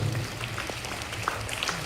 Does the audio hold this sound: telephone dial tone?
no